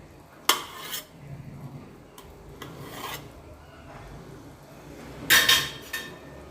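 A knife cutting boiled eggs in half scrapes and rasps against a plate several times, with short gritty strokes and clinks, close by and fairly quiet.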